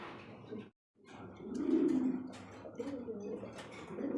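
Pigeons kept for sale coo softly and repeatedly in a close, low murmur, with a brief hush partway through before the rolling cooing returns and continues to the end.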